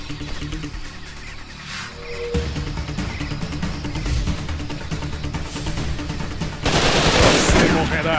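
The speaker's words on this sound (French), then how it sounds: "On me tire dessus!" Rapid automatic gunfire in the jungle shooter Raven Squad rattles on throughout, loud and dense, swelling into an even heavier burst near the end, with faint voices underneath.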